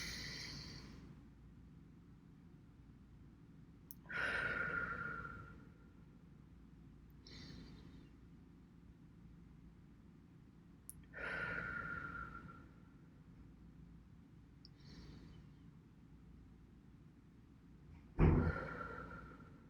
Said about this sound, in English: as I'm letting that breath of air come into my body